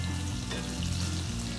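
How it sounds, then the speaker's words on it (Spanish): Floured beef for stew browns in a hot pan, a dense steady sizzle and crackle of frying, close and continuous for the whole short stretch. "la idea es que la carne quede con un doradito rico por todas sus caras"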